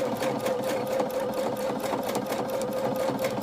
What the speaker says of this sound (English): I'm still learning how to use the Bernina.